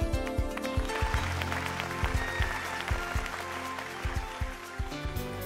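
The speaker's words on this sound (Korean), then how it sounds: "해문 스님을 큰 박수로 맞으시기 바랍니다." Lecture audience applauding to welcome a monk speaker at a cultural heritage talk, dense sustained clapping with distinct sharp hits, fairly close and steady, with faint background tones underneath.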